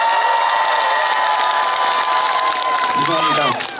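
Concert crowd cheering and applauding at a Korean trot show with an orchestra, a dense continuous roar of clapping and shouts throughout, loud and close, tapering slightly at the very end.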